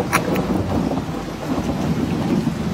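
Heavy rain pours steadily as a dense, loud wash of noise, with a few sharper splashes near the start and no voices.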